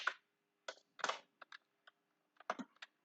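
Code is being typed on a computer keyboard for a Python lesson: short bursts of close, crisp key clicks in irregular clusters with quiet gaps between them.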